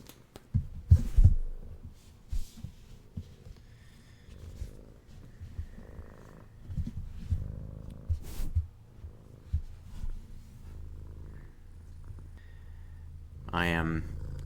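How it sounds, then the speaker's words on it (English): A pet cat purring while lying on its owner's lap and being petted, a low steady rumble running under quiet talk, with soft handling noises and a brief louder rustle near the end. "The cat is demonstrating social behavior by purring."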